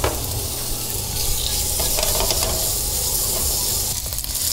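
Chicken and shrimp sizzle in a hot frying pan with a little oil, giving a steady, loud, crackling hiss that holds for the whole stretch.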